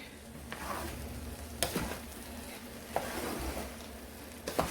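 Rice fries in a pan with a soft, steady sizzle, broken by a few sharp scrapes and clicks of stirring against the pan. The sound is quiet and close, with no talk.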